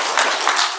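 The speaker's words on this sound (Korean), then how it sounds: "큰 박수로" Brief burst of dense applause from a congregation at a Korean church's Sunday worship in Venice, Florida, honoring an honorary deaconess, close and continuous with no talk.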